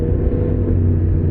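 Yamaha MT-10SP motorcycle engine held at full throttle, a loud, dense, continuous roar heard close up with no break or change in tone.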